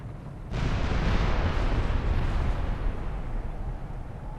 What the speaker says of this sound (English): they have a very good arc on firing the cannons